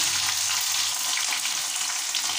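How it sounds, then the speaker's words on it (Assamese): Onions hit hot oil in a pan for a kochu flower fry, giving a bright, steady sizzle that crackles close and alone. "তেল গৰম হৈছে, পিঁয়াজ দি দিছোঁ"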